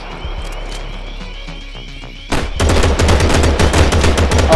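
Video game gunfire in Gangster New Orleans: after a quieter stretch of game sounds, loud rapid bursts of machine-gun fire suddenly erupt and keep rattling densely to the end.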